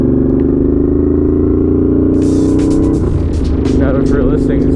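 A Honda GL650 motorcycle engine lugging at low RPM, a loud steady droning rumble throughout, with a voice talking over it in the second half.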